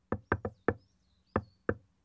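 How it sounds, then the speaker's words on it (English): A patterned secret knock on a door in the animated King of the Hill: six sharp raps, three quick, one after a short pause, then two more after a longer gap, crisp and close, no one speaking. "And they start talking about the secret knock they can do for entry."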